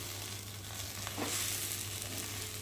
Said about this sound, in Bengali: চিনি দিয়ে একটু ভালো করে নেড়ে চেড়ে নেবো যাতে চিনিটা গলে যায়